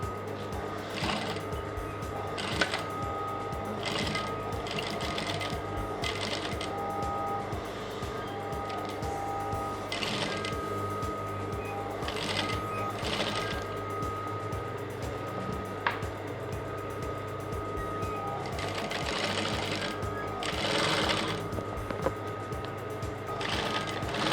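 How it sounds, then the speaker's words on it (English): A sewing machine stitches a trouser seam upward from the hem line in short, repeated bursts over a steady mechanical hum, fairly close and moderately loud, with no talking. "So I will stitch from the hem line with 1 inch seam allowance I added and stop on this point."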